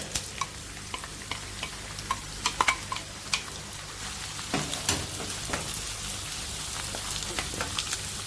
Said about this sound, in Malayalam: എണ്ണ ചൂടായിട്ടുണ്ട്. നമുക്കിതിലോട്ട് അരിഞ്ഞു വെച്ച സബോള ഇട്ട് കൊടുക്കാം.